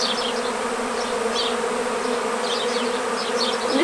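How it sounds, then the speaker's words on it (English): A swarm of honeybees enters a small top bar hive in a front garden, producing a dense, continuous close buzz with individual bees whining past now and then. "This is a really, really lovely swarm."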